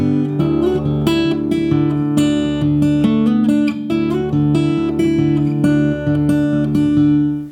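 Acoustic guitar fill, a run of bright plucked notes over a steady droning bass, played close and loud without any voice.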